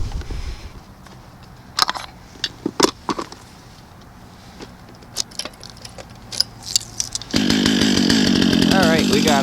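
A Stihl 660 chainsaw, warmed up and ready to cut, roars steadily at close range over the final two seconds, after a stretch of quieter clinks, handling noises and scattered clicks.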